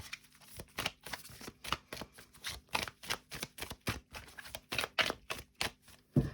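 Tarot cards being shuffled for a reading, a close, quiet series of quick riffling flutters in a steady, regular rhythm, about three per second, with no talking.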